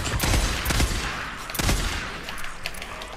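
Rapid bursts of gunfire in the zombie-horde video game Days Gone, with several sharp close shots in quick succession and a dense, loud crackling barrage with no talking.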